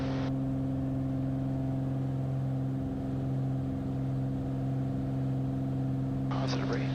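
Propeller aircraft engine at takeoff power during the climb out of Boeing Field on a cool morning, a steady loud droning hum with strong tonal bands held throughout, with a voice speaking over it.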